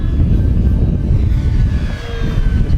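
FMS 1450mm P-51 Mustang RC plane in steep turns, its electric motor and propeller giving a loud, steady droning whine that swells slightly as it banks overhead, heard alone without talk.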